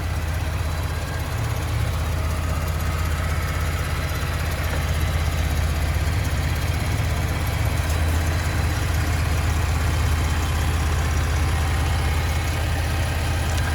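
A 2020 Ford F150 with a 3.5 EcoBoost and Diamond Eye muffler on catless 3-inch stainless Raptor pipes, idling with a steady deep exhaust rumble, close and constant, no voices.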